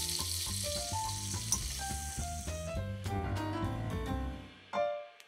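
Shrimp sizzle in a frying pan as they are lifted out, a steady close hiss under background music that thins and cuts off near the end.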